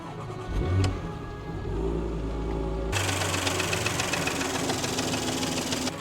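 Engine of a broken Porsche Macan, bought at auction, running nearby and then revving hard to about 2,500 RPM, a steady loud roar that holds after an idling start with a brief knock early on.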